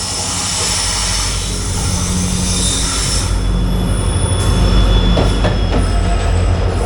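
The 16511 Kannur Express, hauled by a WDP4D diesel locomotive, rolls loudly and close past a station platform, with a continuous heavy rumble, a droning engine and high wheel squeal, and no voices.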